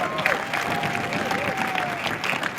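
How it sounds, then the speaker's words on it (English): Crowd applause honoring the North Quincy High School baseball seniors at a Quincy vs North Quincy baseball event, a steady, dense clapping wash with faint cheering throughout. "Let's hear it for a big round of applause."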